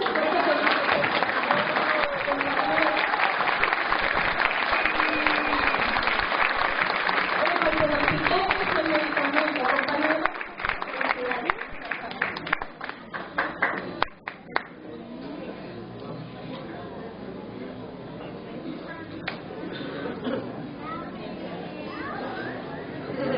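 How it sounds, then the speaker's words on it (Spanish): A crowd applauds at a Christmas choir concert, dense clapping under cheering voices that thins into scattered claps and chatter before fading. "Yo creo que sí merecemos un aplausito"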